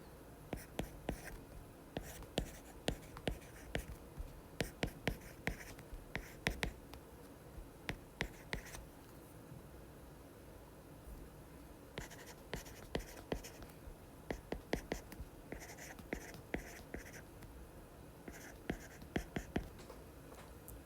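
A pen writing by hand on paper during a worksheet exercise makes soft, close scratching strokes in irregular clusters with brief pauses, steady throughout with no speech over it.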